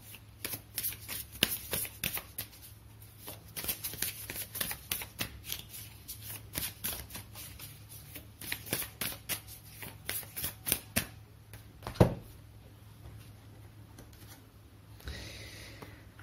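Tarot cards being shuffled and drawn, a quick run of crisp flicks and riffles with brief pauses, close and moderately quiet, with one sharper tap near the end.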